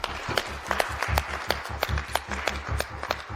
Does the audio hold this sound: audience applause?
yes